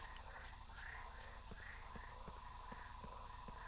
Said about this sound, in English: That noise, though, of the whatever, like the croaking, that just reminds me of Broken Sword.